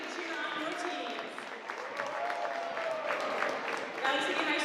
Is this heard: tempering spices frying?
no